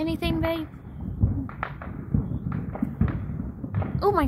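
Scattered thumps and pops of fireworks going off at a distance, mixed with excited voices talking nearby.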